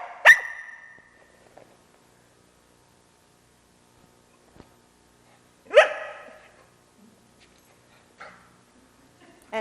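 A dog gives two sharp, close barks several seconds apart, each loud and brief, with quiet pauses and faint small noises between them.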